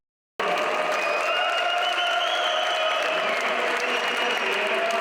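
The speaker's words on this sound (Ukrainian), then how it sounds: "Під час представлення гравців команди найбільшу порцію овацій глядачі подарували своєму незмінному капітану." Sustained ovation from basketball spectators greeting their longtime team captain during player introductions, a dense steady roar of clapping mixed with crowd noise that starts abruptly after a brief silence and holds loud throughout.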